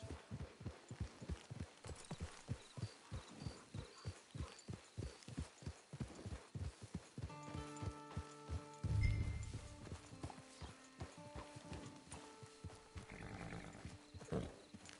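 Rhythmic horse hoofbeats clip-clop steadily for several seconds in the video game Red Dead Online, then give way to soft tonal chimes and a brief low thump.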